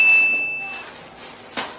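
A small bell meant for a pet collar gives one clear ring that fades over about a second, followed later by a short clink.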